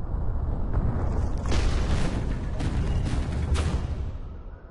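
Fireworks go off in the Minecraft Story Mode Season 2 video game: several sharp bursts and pops ride over a heavy, rumbling boom, loud and continuous, then fade toward the end.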